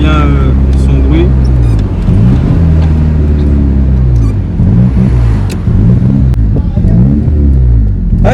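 A 1995 Honda Civic MA8 engine revs through repeated rising and falling sweeps, loud and close, with someone talking over the rumble at times.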